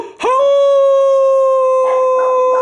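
A dog lets out a single long, steady howl, loud and close, with a faint voice briefly audible underneath near the end.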